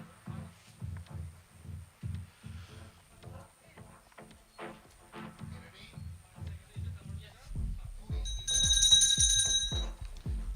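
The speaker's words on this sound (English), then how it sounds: "The bell is given and we are ready for rider number 4, Kiran Akade on Clarendon Z" At a small-tour equestrian league competition, a horse's hooves thud in a steady rhythm, then a bright bell rings out clearly for about a second to start the round, while an announcer talks faintly in the background.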